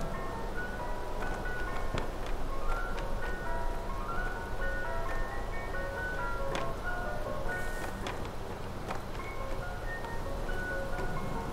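A tinkling ice cream truck jingle plays on a loop in the horror video game The Nightfall, a steady music-box melody over a constant rumbling background with occasional clicks.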